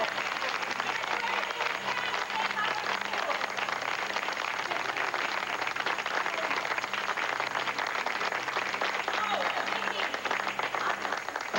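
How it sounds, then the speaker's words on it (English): Warm round of applause from a group of friends and classmates at a soap-opera gathering, steady dense clapping filling the whole stretch at even loudness. "let's give Vicki a warm round of applause"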